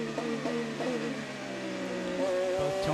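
Tony Kanaan's Ganassi Racing IndyCar on the St. Petersburg street circuit, heard onboard as a loud engine drone climbing through revs with quick downshift blips near the end, with commentary underneath.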